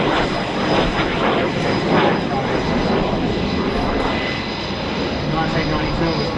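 A-37 Dragonfly jet flying at the Australian International Airshow, a loud, steady roaring engine that fills the whole stretch with a broad rushing noise and a faint high whine on top.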